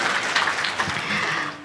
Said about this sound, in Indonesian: Kasih tepuk tangan dulu dong untuk beliau